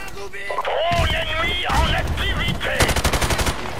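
Gunfire in the video game Call of Duty Modern Warfare Remastered, with a rapid automatic burst of loud, evenly spaced shots near the end. Someone talks excitedly over the game sounds.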